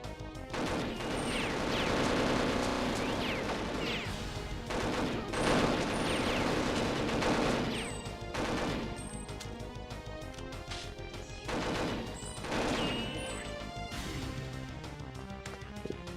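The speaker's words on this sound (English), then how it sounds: "You can clearly see I'm shooting everybody with paintballs" Rapid paintball gunfire in a video game crackles in dense bursts over a busy background of music and game noise, with brief lulls between volleys.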